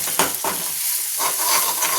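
A ground masala paste for a stuffed brinjal curry sizzles and fries in a hot kadhai, close and loud, with scraping stirs at a steady rhythm and no talk over it.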